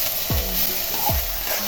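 Ginger and garlic paste frying in a pan gives a steady, close hiss of sizzling, broken by two quick scrapes of a spoon stirring through it.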